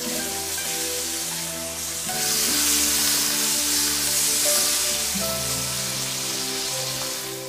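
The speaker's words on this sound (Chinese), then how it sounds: "再下入葱姜蒜爆香。" Scallion, ginger and garlic sizzle loudly in hot oil in a wok that already holds lightly browned salted pork, a steady crackling fry that swells midway as the aromatics are stirred.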